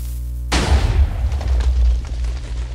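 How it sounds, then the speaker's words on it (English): A video game TNT cannon fires and its charge explodes as one sharp, loud blast over a steady low hum, then rolls off in a rumbling decay that lasts a couple of seconds. "I think the TNT hopped and then landed and then exploded"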